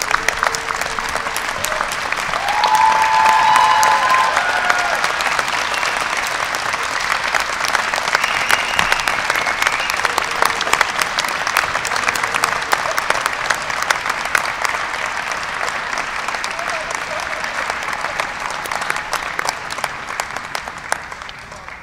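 A large audience at a University of Texas at Dallas doctoral hooding ceremony, fall 2017, breaks into sustained, dense applause that stays loud and steady across the hall for over twenty seconds, with faint crowd murmur beneath.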